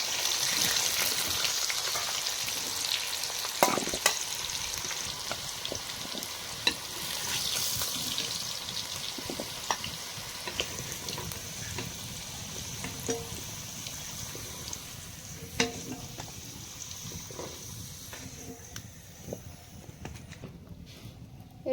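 Potatoes fry in oil with turmeric and salt before duck curry, a soft steady sizzle broken by occasional scrapes and knocks of stirring, fading quieter toward the end, with no voices.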